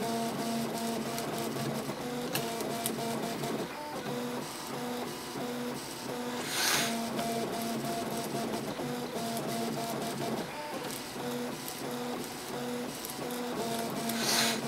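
A Printrbot 3D printer runs its first print, its stepper motors whirring in steady, repeating tonal patterns with rhythmic mechanical chatter, close and continuous with no talking.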